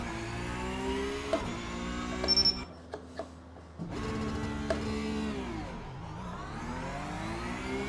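Race car standing start at full throttle in iRacing, a revving engine held high, then a sharp drop and relaunch with rising pitch sweeps as the car accelerates through gears, loud and without talk.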